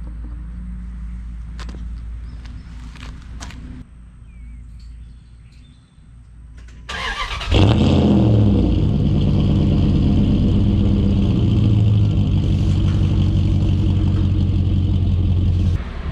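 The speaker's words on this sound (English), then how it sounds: "I'll give you guys the daily driver cold start right here." A Dodge Dakota daily driver cold starts after quiet clicks and shuffling: the starter cranks briefly, then the engine catches with a loud, close rumble and settles into a steady, rough idle.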